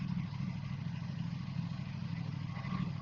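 An Aprilia RS457 motorcycle engine idles after a chain tensioner recall fix, giving a smooth, steady low hum heard close and alone without ticking or talking.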